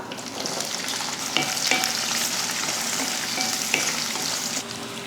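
Small and large onions frying in oil with curry leaves and spices for mutton curry, a steady close sizzle with occasional stirring scrapes throughout, no talking.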